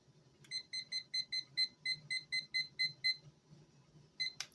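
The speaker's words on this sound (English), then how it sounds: "And I set the timer." A kitchen timer beeps in a quick regular series of about a dozen short electronic tones while being set for steaming, followed by a pause and one last beep, close and clear over faint background noise.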